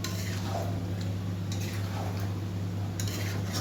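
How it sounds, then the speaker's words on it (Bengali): Chicken stirred with spices in a pot, a steady low simmering hum with several light metallic scrapes and taps of a spoon against the pot at intervals. "মশলাগুলোর সঙ্গে চিকেনটাকে মিশিয়ে নিচ্ছে ভালোভাবে"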